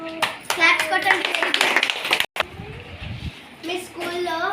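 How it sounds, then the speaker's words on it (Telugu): Schoolchildren at a primary school clap together in bursts, with children's voices talking around and between the rounds of applause. "క్లాప్స్ కొట్టండి"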